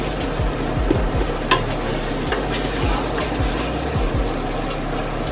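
Vegetables with browned garlic cooking in a pot for gumbo-style collard greens, a steady sizzle under repeated scraping and stirring strokes of a spoon against the pot, no voices.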